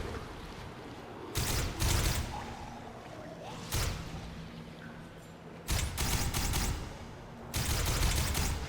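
Pistol gunfire in the zombie game Dying Light: several loud bursts of shots in separate clusters, with quieter game ambience between them.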